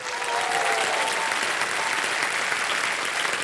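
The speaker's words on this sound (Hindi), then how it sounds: "ऑडियंस पोल जीवित हो गई, ताली बज जाए।" Studio audience on the KBC quiz show breaking into loud, dense applause, continuous and even across the whole moment with a faint crowd murmur beneath.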